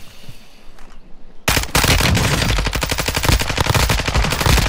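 Sudden burst of rapid automatic gunfire in Call of Duty: Modern Warfare II, loud and close, a dense rattling stream of shots after a quieter opening, with no talk over it.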